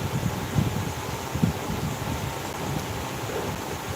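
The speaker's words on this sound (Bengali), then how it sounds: "আমাদের এখানে বৃষ্টি হচ্ছে" Steady rainfall with a low rumbling wash underneath, continuous and fairly soft, no voices.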